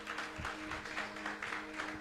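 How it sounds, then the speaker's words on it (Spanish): Church congregation applauding during a sermon, a faint, steady patter of many hands clapping heard from a distance, with a low hum underneath and no clear voices. "Yo le daría un aplauso al Señor por la obra que hizo"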